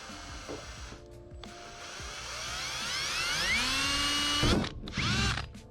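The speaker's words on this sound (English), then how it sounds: "So now you just get a drill bit." A power drill whines steadily, its pitch rising as it bites into a camper trailer, then stops briefly before a second short burst of drilling.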